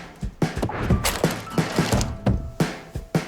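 Wood being knocked while a door frame is fixed, a close series of about a dozen irregular sharp thunks and taps over a few seconds.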